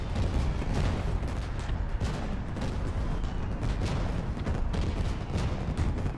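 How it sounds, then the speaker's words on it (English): Fireworks bursting during a Federation Day scene in the video game Call of Duty: Ghosts, a dense, continuous barrage of loud booms and crackles filling the whole stretch with no pause. "Fireworks. Whee!"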